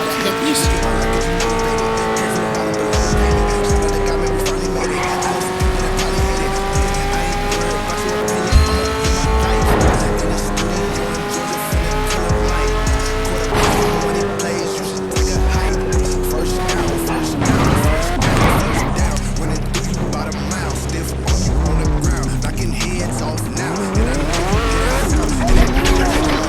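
Car in the Gangstar IV video game accelerating hard through city streets at night, its engine roaring continuously with repeated tire squeals and skids over game music, loud and close throughout.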